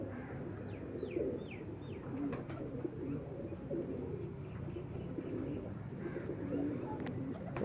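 Breeder pigeons coo in low, rolling murmurs amid a busy loft, with a few brief chirps layered over steady background noise throughout.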